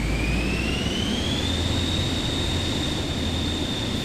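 Simulated airliner jet engines spool up for takeoff in Microsoft Flight Simulator 2024, a loud steady roar with a whine climbing in pitch and then holding.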